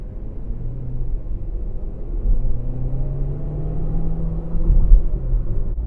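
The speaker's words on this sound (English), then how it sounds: "And I'm going to start it up." Engine of a 2017 Chevrolet Cruze hatchback starting up and settling into a low, steady idle rumble, heard close and continuous with no talk.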